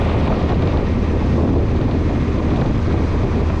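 Strong wind of about 20 knots buffeting a C&C 35 Mk III sailboat, a dense, steady roar of wind noise with a wash of water beneath it, loud and continuous and with no voices.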